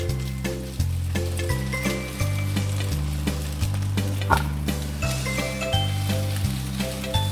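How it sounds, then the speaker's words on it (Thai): Egg sizzles loudly in a hot pan as it is broken up and scrambled for ham and shrimp fried rice, a constant close crackle broken by stirring scrapes, with steady music playing underneath. "เราก็จะใส่ไข่ลงไปก็ขยี้ให้ไข่สุก"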